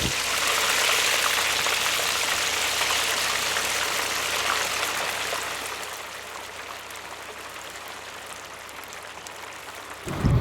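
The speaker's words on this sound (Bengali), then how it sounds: "প্রথমেই মাছের ডিমগুলোতে পরিমাণ মতো নুন হলুদ মেখে ভেজে নেব" Fish roe coated in salt and turmeric frying in hot oil, a steady broad hiss of sizzling that holds throughout and eases slightly toward the end, with no talk.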